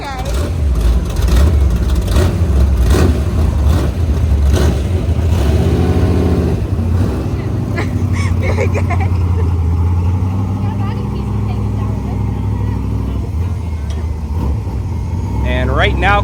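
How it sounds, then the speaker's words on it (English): Hobby Stock race cars roll onto a speedway track, a loud, continuous roar of engines revving and rumbling nearby with shifting pitch, while a voice talks over the noise. "right now coming onto the racetrack for their first session of hot laps will be the Hobby Stocks"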